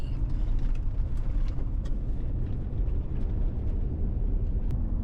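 A truck pulling a trailer drives along a road through a burnt area in the Northwest Territories, giving a steady low engine and tyre rumble with road noise and occasional light rattles and clicks, and no talk.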